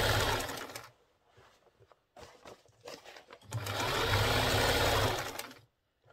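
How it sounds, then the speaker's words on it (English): A sewing machine stitches a side pocket onto a pair of pants with a half-inch seam, running in two steady, loud, close bursts separated by a short pause and quieter handling noises. "You sew it 1/2 inch."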